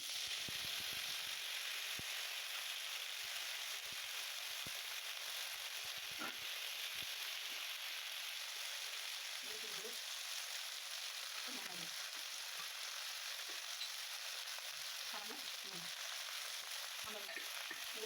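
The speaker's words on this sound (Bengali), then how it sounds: "লাউ পাতাটা দিয়ে দেবো, দিয়ে একটু আমি ভেজে নেব" Bottle gourd (lau) leaves fry in a pan for a village-style Bengali dish, giving a steady, even sizzle with occasional soft stirring scrapes close by and no talking.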